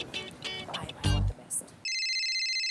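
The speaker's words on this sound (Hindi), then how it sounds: "हम जो है विक्टिम सोनिया को फोन लगा रहे हैं" A phone ring tone sounds steadily and loud after a burst of mixed noise, a comedy show's staged call to a victim, with a continuous electronic ringing tone running alone.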